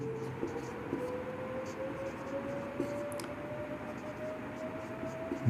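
Chalk or marker writes a physics definition on a classroom board, a faint, continuous scratchy stroke sound with small taps, heard close in a quiet room with no talk.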